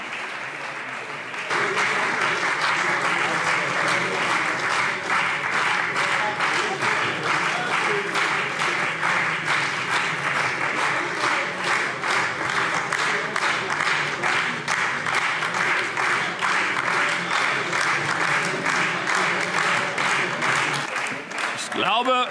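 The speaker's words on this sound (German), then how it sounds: "der Beifall ist nicht für Sie, sondern noch für den Ministerpräsidenten" Sustained, dense applause fills a parliament plenary chamber for about twenty seconds, loud and steady from many hands, then cuts off abruptly.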